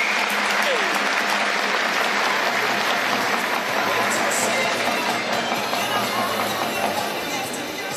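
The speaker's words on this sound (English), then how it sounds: "let's have a massive round of applause for Kathleen Dawson" Dense, sustained applause from a crowd at a national open swimming championship for swimmer Kathleen Dawson, loud and continuous throughout, easing slightly at the end, with some voices mixed in.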